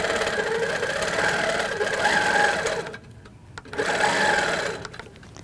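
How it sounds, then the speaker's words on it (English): A sewing machine stitches a thread tension test, running steadily with a fast mechanical hum, pausing briefly and then starting again. Close and alone, with no talking. "Now let's go ahead and stitch this."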